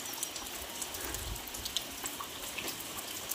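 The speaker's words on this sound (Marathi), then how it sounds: "बघा असा हलका हलका पाऊस पडतो सकाळपासून." Light rain falling on a village morning, a soft continuous patter with scattered nearby drips, fairly quiet and steady with nobody speaking.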